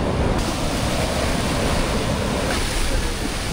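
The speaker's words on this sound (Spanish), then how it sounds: "hay bastante oleaje" Ocean waves breaking on a Rio de Janeiro beach under a cloudy sky with rough surf, a constant loud roaring wash of water and wind filling the whole stretch, no voices.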